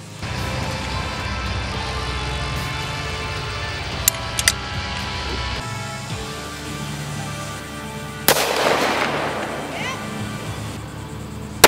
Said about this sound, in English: Same gun, Super Redhawk with the 454 Casull.